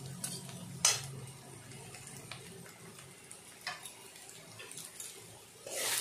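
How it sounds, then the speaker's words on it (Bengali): Banana flower curry being stirred with ghee in a pan, faint soft sizzling under a few scraping spoon-against-pan clinks, close up and without voices. "ঘি দিয়ে কিছুক্ষণ নাড়িয়ে চাড়িয়ে"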